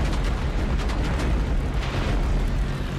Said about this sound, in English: Oh, someone's strafing.